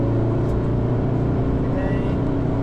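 Car under hard throttle on a Nürburgring Nordschleife trackday, loud in-cabin engine drone with dense low harmonics building steadily, while people talk in the car.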